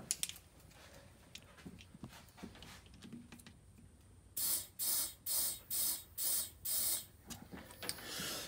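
Quiet handling noise, then seven rhythmic bursts of hissing air from a hand pump inflating a Can-Am Defender snorkel intake tube, each a short forceful puff, close by.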